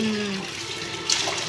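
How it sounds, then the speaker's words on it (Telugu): Fresh selavathi fish washed by hand in running water, a steady close rush and splash of water throughout with a brief louder splash near the end. "ఇలా శుభ్రంగా కడుక్కోవాలి."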